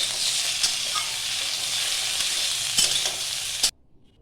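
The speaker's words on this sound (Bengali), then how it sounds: "এখন আলুটাও দিয়ে দেবো, একসঙ্গে দিয়ে একটুখানি নেড়ে দেবো" Potatoes stir-fried in hot oil for a drumstick-stem chorchori give a steady, loud crackling sizzle with stirring scrapes, then cut off abruptly into near silence just before the end.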